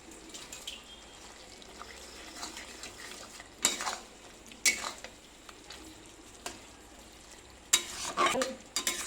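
Mustard paste and ginger paste are mixed into a chalta pickle with a spoon in a pan, low wet stirring broken by several sharp scrapes and clanks against the metal, louder near the end.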